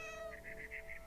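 A cat meows in the video game What Remains of Edith Finch, a short series of faint, quick mewing chirps over a steady low background hum.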